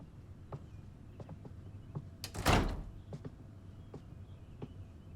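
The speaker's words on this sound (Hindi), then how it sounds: "दरवाजा बंद कर दो।" A door is shut with a single solid thud midway, in a tense action-thriller scene, with faint ticking and a quiet room around it.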